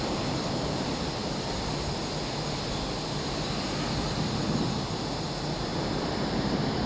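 Airplane in Microsoft Flight Simulator 2024 going down in a crash, heard as a loud, unbroken engine and airflow roar with steady high whine, no distinct impact, no talk.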